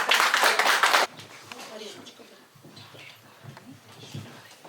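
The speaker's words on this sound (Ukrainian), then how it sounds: "Оплеска." Clapping from a crowd at a kindergarten graduation celebration, loud and dense for about a second, then cut off as a voice speaks over quieter room noise.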